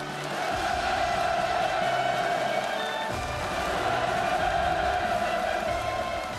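A large crowd roars in sustained, enthusiastic cheering at a ceremony greeting Kim Jong Un at the unveiling of a new 5,000-ton destroyer; a dense wall of voices holds steady and loud throughout.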